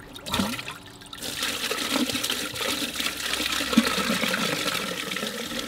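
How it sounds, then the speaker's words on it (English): Dirty water gushing from the heat exchanger plate of a heat pump's external unit, a loud continuous splashing flow with slight surges, heard up close without talk. "A lot of dirty water coming just from the plate on the external unit."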